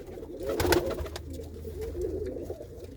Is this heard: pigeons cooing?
yes